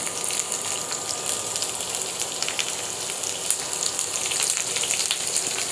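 Steady, rain-like sizzle of chopped garlic cloves and cumin frying in hot oil, a continuous crackling hiss with scattered pops, close and even throughout without speech.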